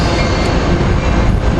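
A passenger train rolls by up close in downtown San Diego on a sunny afternoon, its loud steady wheel rumble and rail clatter filling the whole moment with no pause.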